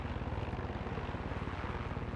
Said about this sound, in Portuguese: O helicóptero é um pouco mais fácil de pousar que o avião